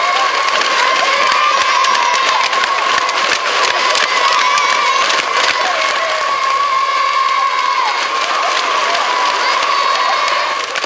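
A huge stadium crowd roars hurrahs and applauds in a dense, continuous wall of cheering and clapping, loud and sustained throughout, with a faint steady tone running underneath.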